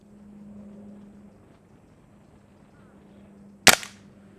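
A Sig Sauer ASP20 .177 break-barrel spring air rifle fires a single sharp crack near the end, following a quiet stretch with a faint low hum, the shot decaying quickly with a brief ring.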